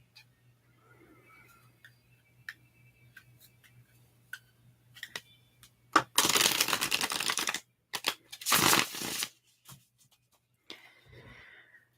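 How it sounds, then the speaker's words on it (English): Tarot cards being shuffled up close, with soft taps and clicks followed by two dense riffling bursts, then quiet handling. "just let it wait there while I shuffle the cards"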